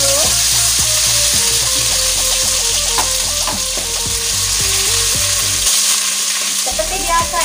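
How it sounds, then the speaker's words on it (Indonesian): Ground spice paste for garang asem sizzles loudly in a hot pan while being stirred, a constant close frying hiss with background music playing underneath. "Kita tumis dulu."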